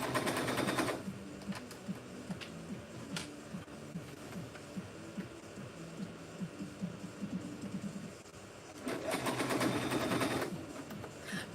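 A sewing machine stitches a new bag pattern in bursts of fast mechanical rattling, pausing and restarting, close and fairly loud, with a louder run near the start and again near the end.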